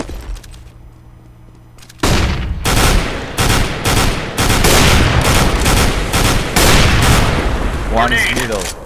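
A grenade is thrown and gunfire erupts during a Counter-Strike match on de_mirage, heavy rapid shots and booming bursts loud and close, after a quieter opening with faint talk.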